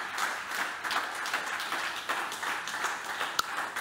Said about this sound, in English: So this is your applause, Brad, because you did the job.